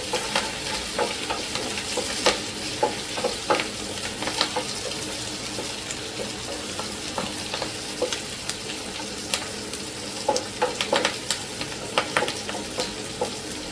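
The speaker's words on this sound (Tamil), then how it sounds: "வெங்காயம் கொஞ்சம் நல்லா வதங்குற வரைக்கும் வதக்கிக்கோங்க." Onions sautéing with fresh curry leaves for mutton sukka, a steady close sizzle with frequent stirring scrapes and clicks of the spoon running throughout, with no talking.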